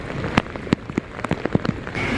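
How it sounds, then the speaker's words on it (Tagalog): Heavy rain during a storm patters hard and loud, with sharp drop impacts and splashes striking a nearby surface over a constant wash of noise. "Grabe ang ulan."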